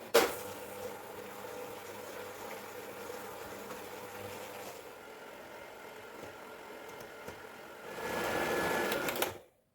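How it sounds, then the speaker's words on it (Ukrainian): An electric mixer whips eggs with sugar into a fluffy foam, a steady mechanical whir that continues throughout, grows louder near the end and then cuts off abruptly. "І це все збиваємо до пишної піни."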